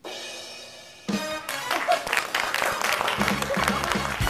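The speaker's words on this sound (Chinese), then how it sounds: "一阵热烈的掌声。" An audience applauds at a comic award ceremony on a variety show, a burst of clapping and cheering that starts abruptly after a brief voice and continues as a busy wash.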